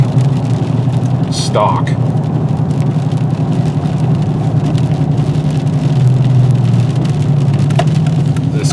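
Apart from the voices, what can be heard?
Dodge Challenger SRT8 392 Hemi V8 engine with Flowmaster exhaust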